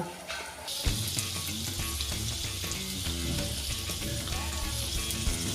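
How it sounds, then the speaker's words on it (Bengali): Spice paste frying hard in a pan for a Schezwan egg curry, a loud, close, continuous sizzle with brief stirring scrapes throughout and no talking. "মশলাটা ভালো করে কষিয়ে নিচ্ছি"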